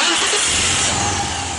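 A 1997 Audi A4 B5 2.6 V6 Quattro with a starting fault cranks and catches, a steady loud engine roar close by with no talking.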